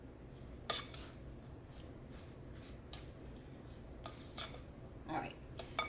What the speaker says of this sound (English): give it a good mix because you want to blend those cheeses that are in there